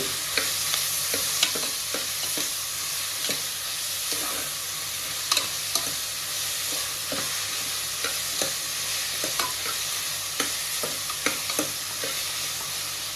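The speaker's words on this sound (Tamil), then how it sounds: "இது ரொம்ப வதக்கணும்னு அவசியம் இல்லை. ஓரளவுக்கு கொஞ்சம் வதக்கினா போதும்." Tomato and vegetables for Kumbakonam kadappa sauté in a pan, a steady sizzle broken by repeated scraping stirs of a spoon against the metal, close up and with no voices.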